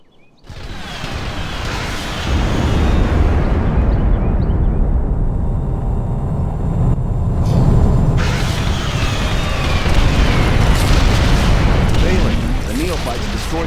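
In the real-time strategy game Ashes of the Singularity, bombers strike and destroy an enemy Nexus, producing a dense, sustained roar of booming explosions and rumbling blasts that fills the scene loudly for several seconds.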